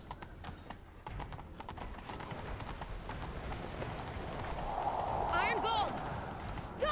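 Horse hooves gallop in The Witcher 3 video game, a fast, steady clip-clop drumming close by throughout, with a brief whinny-like squeal late on and a voice speaking over the galloping.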